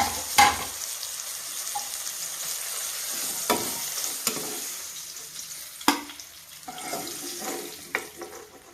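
Stuffed green chillies filled with cumin powder and salt frying in a pan: a low steady sizzle broken by several sharp clatters and scrapes as pieces are turned, close by and fairly quiet, with no talking.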